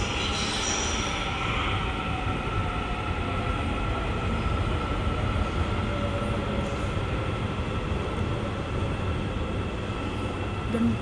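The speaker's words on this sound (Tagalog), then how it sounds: "May train na." A train runs past in a steady, continuous rumble with rail noise and faint wheel squeal, loud and close throughout, with no talk.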